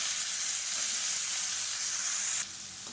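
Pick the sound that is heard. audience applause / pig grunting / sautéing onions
sautéing onions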